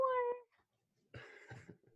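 A pet cat meows once clearly and loudly, then people talk briefly afterward.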